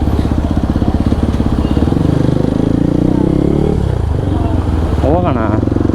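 Kawasaki KLX 230 motorcycle running loud and close, a steady rapid idle thrum with a brief rising rev near the end.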